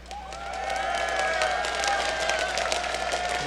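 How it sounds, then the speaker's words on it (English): A crowd at an esports match between Azubu Frost and SK Gaming cheers and applauds in a sustained, loud roar of voices and clapping, with a whistle-like tone running through it. "if you want to see Azubu Frost take 2-0, taking SK Gaming, give them a cheer."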